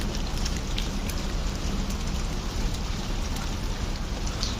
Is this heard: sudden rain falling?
yes